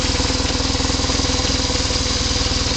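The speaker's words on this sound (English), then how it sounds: "It's what they call the boxer engine." A 2003 BMW R1150RT motorcycle's 1130cc boxer engine runs steadily close by, a loud, even, pulsing idle with no voices.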